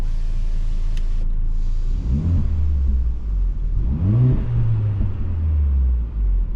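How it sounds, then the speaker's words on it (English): A Mercedes-AMG GLA45 in Sport Plus mode with its exhaust set to Sport revs twice, each a loud rising roar that falls back to a deep rumbling idle, heard close by. "So if we put it in Sport Plus and our exhaust in Sport and our suspension in Sport as well, we should get a pretty nice exhaust note."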